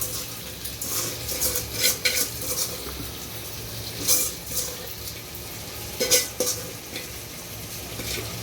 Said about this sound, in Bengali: এই যে আমরা এখন পোলার চাউল দিয়ে দিলাম